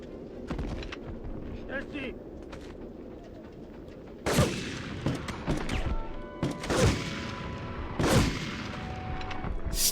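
Gunfire and explosive booms in the PS1 game Medal of Honor: Underground, scattered sharp shots over a rumbling battle background, several loud close blasts spaced a few seconds apart, with a voice talking at times.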